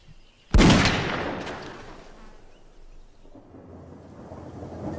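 A sudden loud thunderclap from a wild storm rolls and rumbles slowly away, followed by a steady wash of rain and a softer second rumble.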